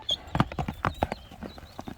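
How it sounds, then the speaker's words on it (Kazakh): A horse walks at a steady pace, its hooves clip-clopping in a quick, even rhythm, close and distinct against faint background noise. "Ушундай балбан аттарды гана минип жүрө бер, Дастан."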